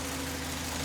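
Otokar Navigo bus with a Euro 6 Cummins ISBE 4.5 engine mounted behind the front axle, idling with a steady low drone and a constant hum for under a second, alone with no voices.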